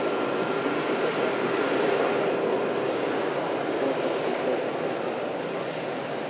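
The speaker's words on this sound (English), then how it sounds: "There's the biggest passenger aircraft on the planet taxis past us here at the runway visitor park" The world's largest passenger aircraft taxis past a runway visitor park, giving off a steady, broad jet-engine roar that stays fairly constant at moderate distance with no clear rise or fade.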